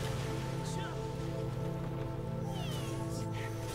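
Rain falling in a video game boss stage, a soft steady patter under continuous game music and effects, with occasional brief chirping tones, moderately quiet and without talk.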